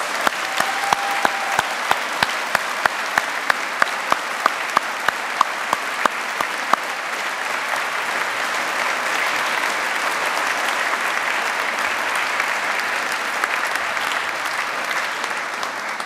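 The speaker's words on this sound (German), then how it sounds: "man muss nicht mehr sagen, als einen kräftigen Applaus spenden" An audience gives sustained, loud applause at a children's yodel choir CD launch concert, with a few sharp rhythmic claps at first before the clapping settles into a dense, even roar.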